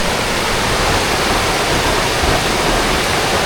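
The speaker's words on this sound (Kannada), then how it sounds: "ಫುಲ್ ಸಕ್ಕತ್ತಾಗಿ ನೀರು ಹರಿತಾ ಇದೆ" A waterfall at a nature resort in Sakleshpura pours down with a strong, steady roar, a dense broadband rush of water that stays loud and unbroken throughout, close by and heard alone.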